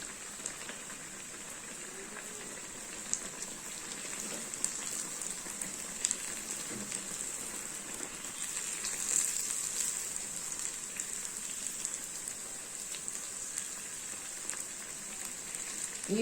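Idli frying in hot oil, a steady close hiss and sizzle that holds evenly throughout with faint crackles and no talking.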